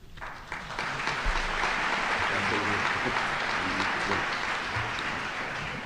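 Audience applause after a lecture by Professor Ilan Pappe on dispossession and occupation, a dense, steady wash of many hands clapping that swells early and fades slightly at the end, with faint voices mixed in.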